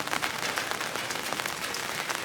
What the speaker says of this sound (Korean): 비 오는 전주